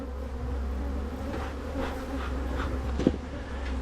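Dense buzzing of honeybees from an opened nucleus colony hive in Barbados, a steady close drone with individual bees passing nearby.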